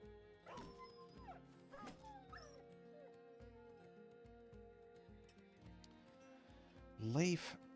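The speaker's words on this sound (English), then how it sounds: "Have to kill some dogs once again." Dogs in the video game Battle Brothers yelp, whimper and howl in short bursts across the clip, ending with a loud, rising howl near the close.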